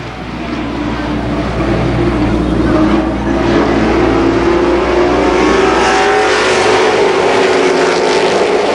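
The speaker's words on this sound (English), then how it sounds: "Now Russ Bob moves up alongside Rick Stone" Super late model stock cars race around an oval speedway, their engines roaring continuously and loudly as the pack sweeps past with a steady, dense, droning howl.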